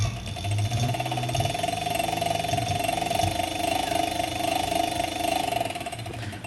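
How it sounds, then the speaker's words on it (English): Continuous fast clicking from the rear Evader hub, where the brake cable spiral rubs against the rotor, runs under a steady mechanical whir throughout, close and moderately loud. "Alright, so now that you hear the clicking noise"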